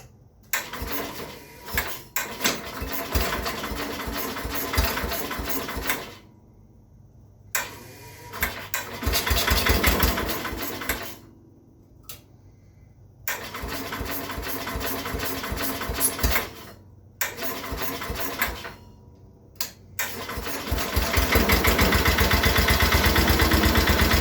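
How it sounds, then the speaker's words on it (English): The engine of a Bolens 1050 garden tractor cranks and sputters in repeated attempts with brief silences between them, then catches and runs with a loud, rough mechanical rattle. "I think it'll start now."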